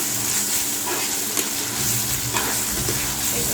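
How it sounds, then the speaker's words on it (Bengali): Ginger-garlic spice paste sizzles and fries in very hot oil for a duck curry, a dense continuous crackle with occasional stirring scrapes, close and loud with no talking. "এক মিনিট মতো ভাজলেই হয়ে যায় কারণ তেল অনেক গরম থাকে"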